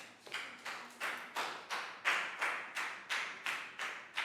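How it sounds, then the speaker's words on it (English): Steady rhythmic clapping in a Year 3 classroom, about a dozen evenly spaced sharp claps from a small group, close and clear with no talking. "Big round of applause for Bangpon"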